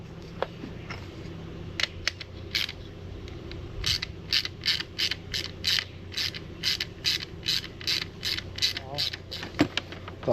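A socket ratchet tightens the bolts on a Lowrance TripleShot transducer shield, giving a steady series of close, sharp clicks in quick bursts over a low background hum.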